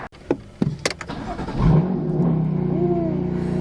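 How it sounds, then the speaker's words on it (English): A few sharp clicks and thumps, then a BMW F90 M5 engine barks to life on a cold start and revs loudly before settling into a rumbling, high idle. "Gotta love that cold start."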